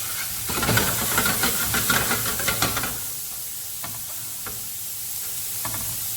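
Italian soffritto vegetables gently cooking in a pan for a spaghetti sauce, a close steady sizzle and hiss with a few stirring scrapes early on, then a quieter even frying.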